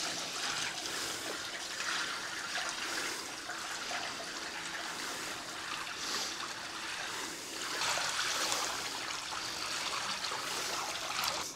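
Water poured and splashed around inside the water tray of a CNC plasma cutting table, a steady broadband sloshing and trickling that carries on for the whole stretch at fairly even volume, with no talking.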